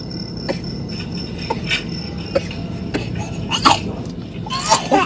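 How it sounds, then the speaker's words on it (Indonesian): A child gives several short, sharp coughs scattered through the clip, close by, over a steady background hum with faint clatter. "Anak gua sampai batuk"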